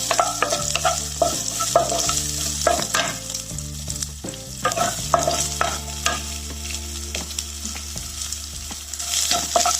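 Onions sizzle and fry lightly and steadily in a hot pan for sweet corn sundal, with occasional stirring scrapes and clinks over the constant crackle.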